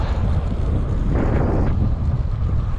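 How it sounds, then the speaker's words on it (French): Strong cool wind buffets the microphone in a steady roar during a cycling event, loud and close, with gusts swelling briefly and no voices. "Il y a du vent, un vent frais"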